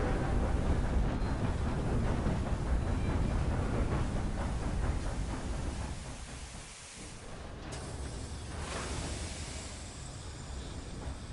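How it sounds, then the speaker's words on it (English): A train rolling past a grade crossing in the video game Red Dead Redemption 2, a steady loud rumbling roar that eases off partway through and then continues at a lower level. "See, there it goes past the train."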